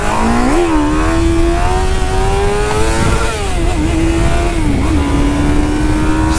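A Honda Hornet motorcycle engine revs hard and close, its tone climbing, dipping and rising again through repeated throttle blips in a loud, continuous whine.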